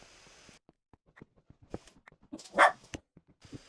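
Dog barking in the Minecraft video game, with scattered soft clicks and a short whimpering yelp near the end, fairly quiet, with no talking.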